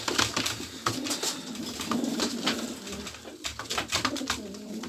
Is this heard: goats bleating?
no